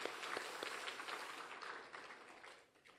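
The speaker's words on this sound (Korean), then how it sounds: "귀한 분들 수고했다고 우리 박수로 한번 격려하겠습니다" A church congregation applauding the choir during a Sunday worship service, a faint, dense wash of clapping that fades away toward the end.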